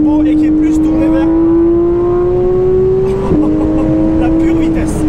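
A Porsche 991.1 GT3 with a 3.8-litre naturally aspirated engine revs loudly and close by, its tone climbing steadily before a sharp gear change drops the pitch and it pulls again.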